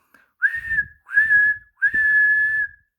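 Three whistled notes, each rising into a long sustained tone, the last held longest, with breathy puffing underneath — a voice imitating a steam engine whistle.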